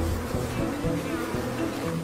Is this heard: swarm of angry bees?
yes